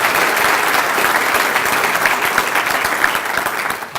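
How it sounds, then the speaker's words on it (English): A banquet audience at a football touchdown club luncheon claps in a steady, dense round of applause, close and even for a few seconds. "So let's give him and Metropolitan Bank a special round of applause, too."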